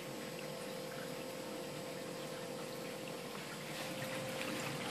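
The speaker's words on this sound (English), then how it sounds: "The water that comes off of here is the noise that you're hearing, and all the water going through the system." Water pours and flows steadily through a Reef Octopus Regal 300 protein skimmer on an aquarium system, a constant soft splashing hiss with a faint steady pump hum, close and alone.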